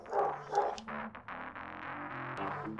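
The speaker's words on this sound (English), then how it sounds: "It's the damn dog downstairs." A dog downstairs barks in two quick yaps, then carries on with softer whimpering, muffled yips, heard faintly through the floor in an otherwise quiet room.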